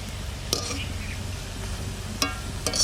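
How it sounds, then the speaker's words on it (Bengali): Pitha cake made with sweet potato frying in oil on low heat, a soft continuous sizzle close by with a few sharp clicks of a utensil, under a quiet voice. "আরো শক্ত পিঠে ভাজতে হয় মিঠে জালে।"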